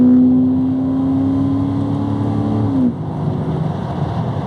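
A Jaguar XJC V12 engine with a 5-speed manual gearbox drones steadily under load, its pitch holding high before dropping suddenly as revs fall, then continuing with a rough, lower rumble.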